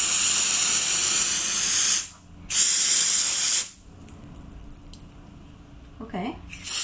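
Freeze spray hisses in two loud, sustained bursts with a short gap between them, then cuts off into quiet, leaving faint drips and small sounds near the end.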